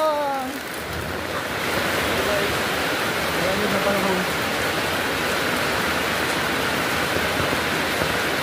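Steady broadband hiss of heavy rain pouring down close by, continuous throughout, with a few brief voices at the start.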